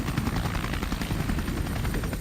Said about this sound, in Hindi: रूस के Ka-52 हेलीकॉप्टर विनाश बनकर उड़ रहे हैं